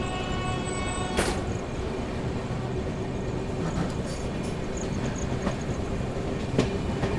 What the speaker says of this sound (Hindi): सामने से आ रही है आप लोगों की वाराणसी नई दिल्ली वंदे भारत एक्सप्रेस आ रही है भाई गजब की रफ्तार में